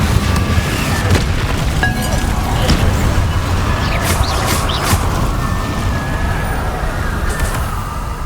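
Confringo explosive spell blasting in Hogwarts Legacy during a fight with Inferi, a loud, dense rumbling boom over continuous battle noise, with a voice shouting the spell's name.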